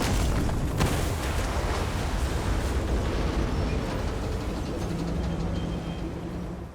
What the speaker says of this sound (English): destroying the first cannon.